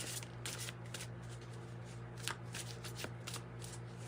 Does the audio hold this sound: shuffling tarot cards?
yes